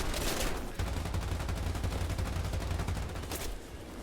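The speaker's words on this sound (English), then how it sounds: "You've got to get back in that gun and keep shooting." Machine gun fire from an aircraft wing gunner position in a video game, a continuous rapid stream of shots over a low rumble, fairly distant and steady throughout without talk.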